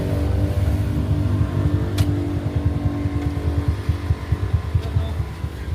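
A motorcycle arrives with a loud, close engine rumble and uneven throttle pulses, running steadily throughout at an outdoor gathering in Tanza, Cavite.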